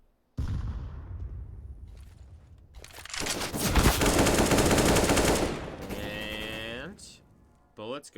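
Sustained CS:GO gunfire at a competitive esports match builds into a dense, loud burst lasting several seconds, with scattered shots before it and tonal in-game effects trailing after.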